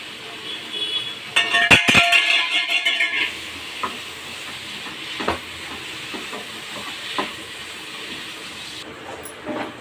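Prawns sizzle in a hot pan with chili powder and spices, a steady hiss broken by a sharp metallic clatter of stirring near the start.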